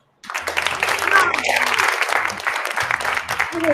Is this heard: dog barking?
no